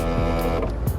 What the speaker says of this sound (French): Donc pour descendre la vitre il faut faire ça.